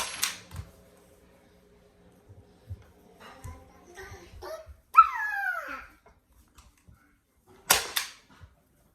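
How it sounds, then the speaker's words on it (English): A staple gun drives staples through upholstery fabric on an Ikea LATT chair, giving a few sharp, separate snaps with quiet gaps and some handling noise between them. "I like to kind of fold the corners and staple that down, pull it a little tight"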